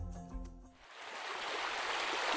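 The shallow Baiyang River, narrow and only 30-40 cm deep, runs along a valley floor near Turpan. Its soft, even rushing swells in after a brief musical passage and continues quietly to the end.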